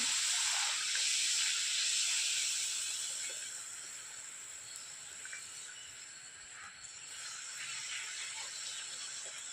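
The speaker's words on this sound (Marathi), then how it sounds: "पुऱ्या झटपट तळल्या जातात कमी वेळ लागतो तळण्यासाठी" Masala puris deep-fry in oil, giving a continuous bright hiss up close that eases slightly midway and then holds steady, with no voices.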